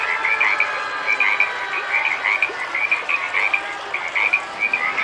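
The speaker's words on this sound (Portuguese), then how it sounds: "a praga das rãs." A chorus of frogs croaks loudly and continuously, with repeated rapid trilling calls pulsing in a steady rhythm and no voices.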